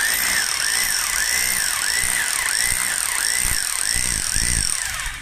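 INGCO three-function rotary hammer drill for household concrete work running steadily, with a continuous high motor whine and a rhythmic pulsing hammer action throughout, loud and close with no voices.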